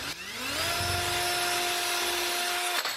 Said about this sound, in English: So I will take my drill. This is, of course, just called pre-drilling.